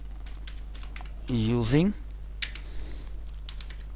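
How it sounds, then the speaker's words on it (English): Computer keyboard keys clatter in quick irregular bursts while code is entered, fairly close and moderately loud, with a short spoken word cutting in partway through. "So for SQL client we will type"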